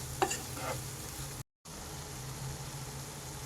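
Onions with salt sizzle in a pan for dal fry under quiet, continuous frying noise, with a couple of brief stirring clinks near the start and a short gap of silence midway.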